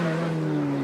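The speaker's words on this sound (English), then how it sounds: "Motor full out there going into that pitch corner" A sidecar racing motorcycle runs flat out on a grasstrack into a corner, a loud sustained engine drone holding a steady, slightly falling pitch for under a second.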